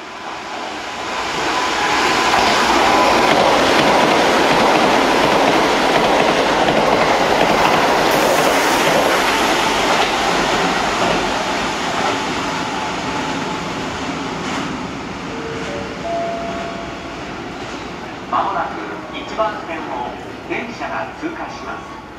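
A Keikyu 1500 series train passes through a station on the Keisei Main Line, a loud sustained broadband roar with rhythmic wheel clatter that builds, holds and slowly fades. A station announcement plays over it.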